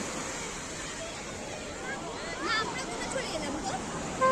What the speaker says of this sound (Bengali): কিন্তু প্রচুর পরিমাণে ঢেউ উঠছে